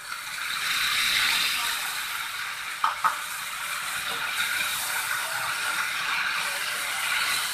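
Onion, turmeric and tomato fry in a pan with a steady broadband sizzle while a spoon stirs, giving two sharp clinks near the middle; the frying hiss continues evenly throughout with no talking.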